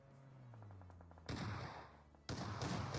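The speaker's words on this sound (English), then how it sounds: "Oh, no, it was actually the shotty that took them out." Shotgun blasts in a competitive video game match: two loud, heavy bursts about a second apart, each cutting in abruptly over a quieter background of faint game sounds.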